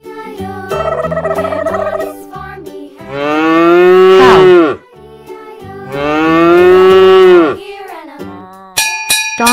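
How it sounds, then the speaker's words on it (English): A farm cow gives two long, loud, close moos separated by a short pause, with brief lowing and tinkling sounds between them and a jingle at the end. "Cow."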